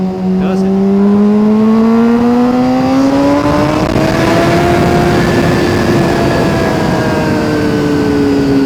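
A supersport motorcycle engine revs hard while riding, its high droning pitch climbing steadily through the gears, loud and close, with steady wind roar underneath.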